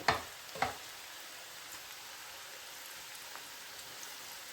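Crispy onion bhaji (kanda bhaji) frying in hot oil, a steady soft sizzle and crackle with a couple of sharper pops at the start, fairly quiet and without voices.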